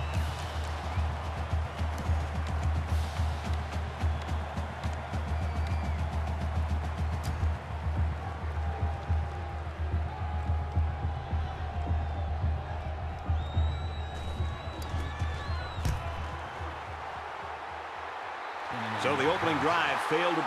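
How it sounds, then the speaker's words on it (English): A stadium crowd roars steadily throughout an NCAA 13 college football game between Ohio State and Michigan, with broadcast commentators talking over the dense, constant crowd noise. "But the crowd was loud and did their part."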